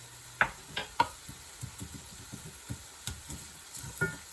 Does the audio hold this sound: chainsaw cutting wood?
no